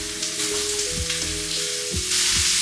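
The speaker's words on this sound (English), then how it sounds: "Now we're going to get them into the fry pan." Steak sizzles and fries in a fry pan, a steady close hiss with a few brief stirring scrapes and a louder burst of sizzle toward the end, no talking.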